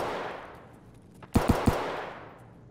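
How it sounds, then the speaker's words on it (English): Three sharp pistol shots in Escape from Tarkov, fired in quick even succession against a quiet hissing background, each with a short ringing tail. "That's pistol."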